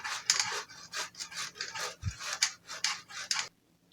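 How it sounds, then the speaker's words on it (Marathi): Boiled medium-sized potatoes are grated by hand in quick rasping strokes, about a dozen bursts in steady rhythm, close and clear, with one soft low knock partway through and no talking. "आपल्याला हे बटाटे किसून घ्यायचे आहेत"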